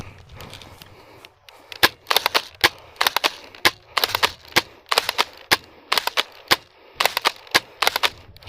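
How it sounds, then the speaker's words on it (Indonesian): Spring airsoft gun fired repeatedly during an outdoor skirmish, a steady series of sharp, loud snapping shots in quick bursts, with no talking. "langsung aja refleks saya tembak"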